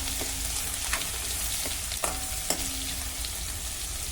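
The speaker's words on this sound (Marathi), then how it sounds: "लसूण हलक्या तांबूस रंगाचा होईपर्यंत आपण परतून घेऊ" Coarsely crushed garlic, added after mustard seeds and cumin, sizzles and fries steadily in hot oil as it turns light golden, with a few faint stirring clinks over the continuous crackle.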